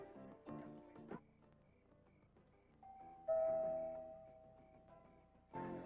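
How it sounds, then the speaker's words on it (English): A doorbell rings in an early-1980s film scene, a few chime tones sounding clearly and fairly close in an otherwise quiet room, with no talking over it. "doorbell's ringing"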